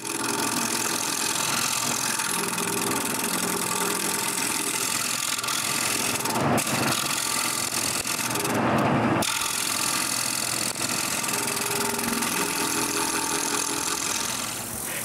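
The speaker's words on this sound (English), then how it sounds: "I just need to go back to the lathe and round over the sharp corners." A wood lathe turns a wooden plate while the corners are rounded over, giving a steady, loud whirring drone with a rougher scraping burst partway through. The sound is close and continuous, with no voices.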